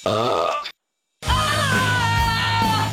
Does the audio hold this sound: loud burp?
yes